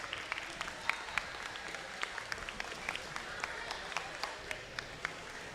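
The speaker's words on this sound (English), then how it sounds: "Let's give a big round of applause for Bearcat Robotics, Magnatech, and Tigerbots." Scattered clapping for robotics teams at a FIRST Robotics Competition event, a thin crowd giving a steady patter of hand claps with sharper individual claps standing out throughout.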